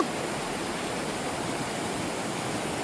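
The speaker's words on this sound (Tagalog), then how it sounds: "Ang lakas ng agos to, no?" Loud, dense rushing of fast-flowing river water, a continuous close roar with no voices.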